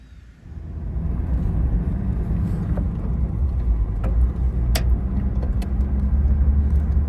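Car engine rumbling steadily as vehicles drive along a dry-season track near a river in remote outback country, a continuous low road drone rising after a quiet start and holding loud and close throughout.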